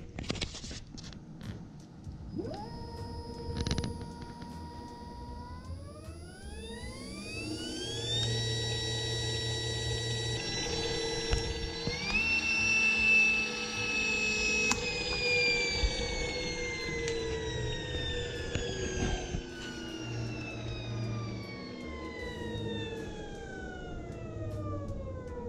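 Nissan Leaf electric traction motor running on a battery pack of roughly 158 volts, a loud rising whine climbing in pitch as throttle is applied, holding high, then slowly falling away as it spins down, with no talk.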